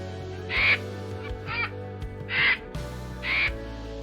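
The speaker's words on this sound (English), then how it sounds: "Vulture." A vulture gives four separate raspy calls spaced about a second apart, fairly loud and close, with no other sounds around them.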